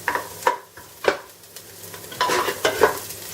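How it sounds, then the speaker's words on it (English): Onions for a lamb kokinisto sizzle in a hot pan while being stirred, with repeated scraping strokes at a steady rhythm, close and fairly loud, with no talking. "We need to cook the onions first."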